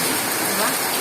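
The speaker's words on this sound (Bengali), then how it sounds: "প্রচুর বৃষ্টি হইতেছে, প্রচুর।" Heavy rain pours down in a dense, loud, continuous roar of drops striking surfaces during a downpour in Bangladesh.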